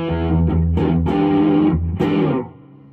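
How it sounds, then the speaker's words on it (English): Electric guitar on its bridge pickup played through a small Princeton amp set low, with a few strummed chords ringing out with a slightly gritty edge and then decaying, close and fairly loud. "This bridge pickup sounds like this."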